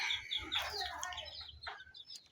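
Tiger breed chicken chicks in a fenced pen among sweet potato, grass and gourd plants give faint, scattered clucks and thin chirps at low volume with no talking.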